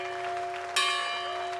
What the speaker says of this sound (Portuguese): No final da cerimónia soou o sino da mais antiga igreja batista, fundada por negros, em Virgínia,